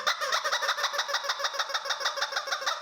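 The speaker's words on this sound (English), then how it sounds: "I want to take all these and squeeze them together." Several rubber chickens squeezed together at once, a rapid, loud pulsing chorus of squeaky squawks repeating in a fast steady rhythm, close up with no talk.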